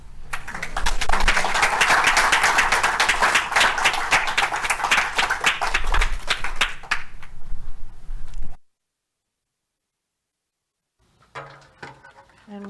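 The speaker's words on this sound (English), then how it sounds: "giving Melissa another round of applause" A live audience applauds at the close of a gratitude talk, with dense, sustained clapping for about eight seconds before it cuts to silence, followed by a short, sparse burst of sound near the end.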